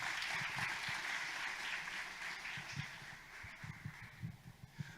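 A church congregation applauds during an evening worship service, a soft, distant wash of many hands clapping that thins out toward the end into a few scattered claps.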